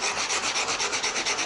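A rounded rubber sanding block wrapped in sandpaper rubs along a curved wooden edge, giving a steady, close scratchy sanding sound in even back-and-forth strokes.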